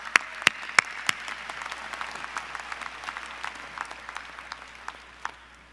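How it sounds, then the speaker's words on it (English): A commencement ceremony audience applauds for a speaker, giving scattered sharp claps that are loud at first and then thin into lighter, sparser clapping. "Please give him another round of applause."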